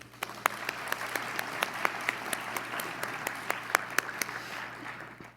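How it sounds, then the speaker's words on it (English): Steady applause fills a large room at an INFORMS awards ceremony honoring award recipients, with scattered sharper claps standing out over a constant hum, sustained throughout without speech. "Let's give a big round of applause to all of tonight's honorees."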